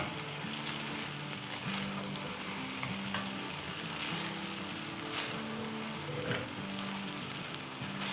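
Peanuts frying in hot oil in a wok for kung pao chicken, a steady dense sizzle running throughout at close range, with faint stirring and no talk.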